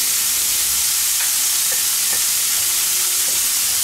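Bacon sizzles loudly and steadily as it is fried for shashlik skewers, a dense hiss with a few faint scraping stirs, no talk.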